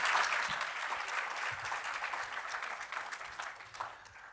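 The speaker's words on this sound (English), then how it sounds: "Can we give all of our speakers a huge round of applause?" A round of applause for the speakers at the end of a talk event, a steady, fairly faint wash of many hands clapping, heard from a distance, with no voices over it.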